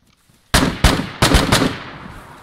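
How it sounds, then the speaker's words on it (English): Gunfire from a heavy-sounding gun in the survival game DayZ, five loud sharp shots in an uneven sequence after a quiet start, each with a short echoing tail. "It's a big sounding gun."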